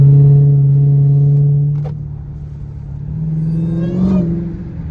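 Dodge Hellcat engine on a city street, a loud steady low drone that falls away briefly, then swells with rising rev blips toward the end; no voices.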